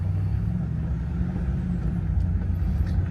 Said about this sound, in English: and then we start driving